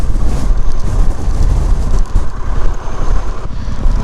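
Storm Darragh's 80 mph winds batter a Pan America motorcycle in the Lake District, a loud, continuous roar and buffeting rush of wind noise that fills the whole stretch without letting up.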